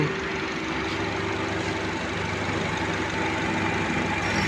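A Mazda 2 automatic hatchback's engine idles steadily and close by, a constant low hum without breaks and with no one talking over it.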